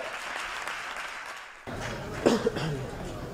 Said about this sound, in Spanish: un aplauso fuerte para Darío Martín Roncero